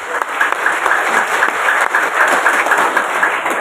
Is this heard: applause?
yes